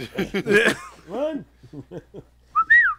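A man whistles a short tune in sliding, swooping notes, finishing with a quick, bright rising phrase, close up, with a spoken word and a chuckle mixed in.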